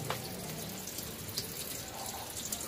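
Water trickles weakly from a household tap in a steady, faint hiss with small splashes and drips, close by and otherwise quiet.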